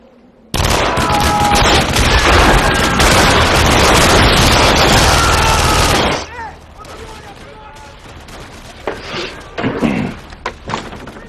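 A heavy barrage of gunfire in a sci-fi action movie pounds continuously for several seconds, loud and dense, then cuts off abruptly and gives way to quieter scattered thumps and clatter.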